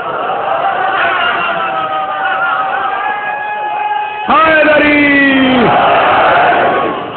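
A large crowd at a religious mourning gathering for Imam Hussain chants a slogan in unison, loud rising voices held in long tones, a first call followed by a louder, fuller collective response.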